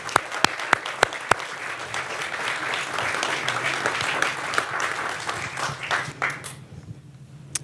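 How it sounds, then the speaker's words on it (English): An audience at a forum on American Muslim issues breaks into applause: a few isolated hand claps first, then dense clapping building and holding, fading out near the end. "Can you just please join me in applauding this guy for making this movie and this extraordinary woman?"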